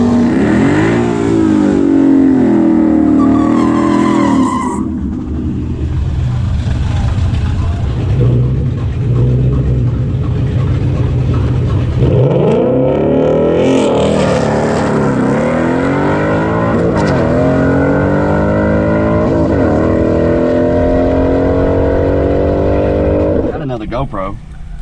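A Ford Mustang at a night dragstrip, engine loud and close, rising through revs and accelerating in sweeping pitch climbs, with a steady rumble between pulls and people talking over it.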